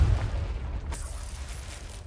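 A Confringo spell explodes in a video game with a loud, deep boom at the start, followed by a rumbling blast that slowly fades.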